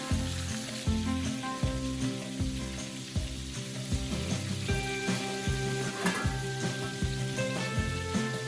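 Tiger prawns fry in a pan with a steady, crackling sizzle, punctuated by bursts of spitting and soft clanks of a utensil against the pan.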